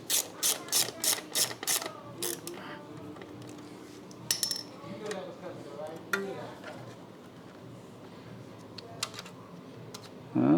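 Ratchet clicks in a quick run of about eight sharp bursts while bolts come off the light on a 2021 Honda Super Cub, followed by scattered metallic clinks and handling noises, close and fairly loud.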